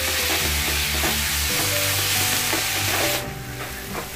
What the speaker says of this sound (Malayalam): നന്നായിട്ട് നമുക്ക് മിക്സ് ചെയ്യാം.